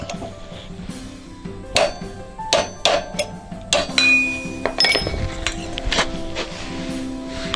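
A hammer knocking the cotter pin out of a cottered crank during the restoration of a Katakura Silk bicycle: a run of sharp, close metallic clinks and taps in an uneven rhythm, with no talking.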